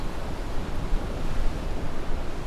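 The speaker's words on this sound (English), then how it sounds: "That is so powerful, that water and waves." Ocean waves and surf break along the rocky Oregon coast on a calm day, a steady broadband wash of water with gentle surges, close and fairly loud, with no voices.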